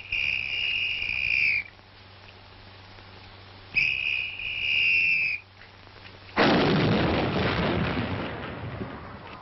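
A big gun fires after two long whistle-like tones, giving one loud, abrupt blast that rolls on as a sustained roar to the end.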